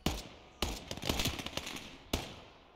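Gunfire in the WWII game Gates of Hell: Ostfront, modded: three sharp loud bursts spaced across the moment, with rapid crackling shots and echoing reports filling the gaps between them, no talking.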